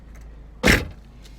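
A car door shuts once at close range in a parking lot, a short solid thump standing out against faint background hum.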